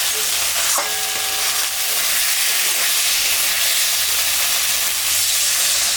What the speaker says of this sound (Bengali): মশলাটা কষানো হয়ে গেছে, এখন আমি ঝোল দিয়ে দিই